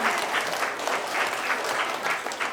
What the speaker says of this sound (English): Give yourselves a huge clap.